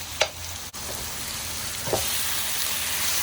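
Ground turkey fries in a pan with a steady, close sizzle, broken by a couple of short stirring scrapes near the start and again around two seconds in. No one speaks.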